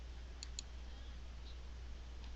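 A computer mouse clicking twice in quick succession while sorting spreadsheet columns; the sharp, faint clicks sit over a steady low hum in a quiet room.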